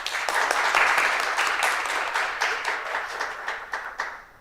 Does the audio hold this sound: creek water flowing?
no